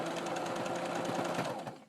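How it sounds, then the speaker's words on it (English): A sewing machine runs a steady straight stitch while an ironing board cover is being made, its rapid needle rhythm close and continuous for nearly two seconds before slowing to a stop. "I'm going to do a straight stitch here."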